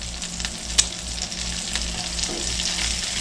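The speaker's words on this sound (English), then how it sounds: "Now we gotta try to flip those bad boys." Hamburger patties sizzle steadily in a cast iron skillet, a close, continuous frying hiss with one sharp clank near the start as a patty is flipped.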